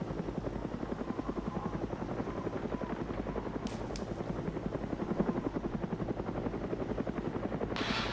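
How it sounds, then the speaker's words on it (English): A helicopter flies close by in the Arma 3 military video game, giving a loud, steady, rhythmic rotor chop with no speech. "can we manage to kill this helicopter?"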